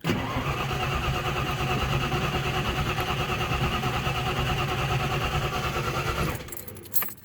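A car engine with a Holley-style carburetor cranks with a rhythmic whirring, then catches and runs loud and close before abruptly cutting out near the end.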